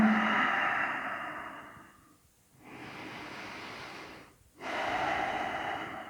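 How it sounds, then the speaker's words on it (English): Slow, deep breaths during a yoga leg raise, long airy inhales and exhales close to the mic, separated by two brief pauses, with no talking. "Keep breathing here"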